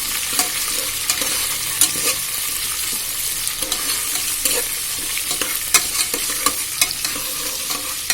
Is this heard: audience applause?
no